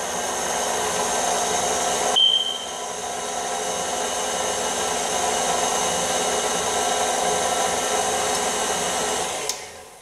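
An electric mixer on low speed blends pumpkin spice bread ingredients, a steady whirring drone that holds evenly for about seven seconds after starting, then cuts off near the end.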